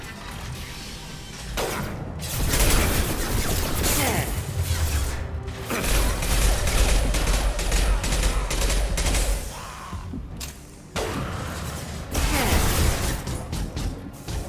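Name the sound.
impact shot being fired in the video game Mass Effect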